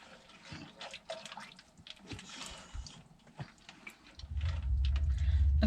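Water poured into a skillet while making freeze-dried shepherd's pie: scattered drips and splashes, then a louder steady pour swelling over the last second and a half.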